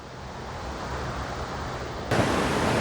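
Flooded Susquehanna River and the Falling Springs Waterfall give a continuous broad rushing roar, steady and enveloping, swelling suddenly louder near the end.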